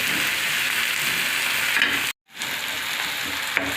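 Chopped tomatoes sauté in a pan with onions and chillies while cooking village-style brinjal bharit, a steady close sizzle running throughout with one brief gap.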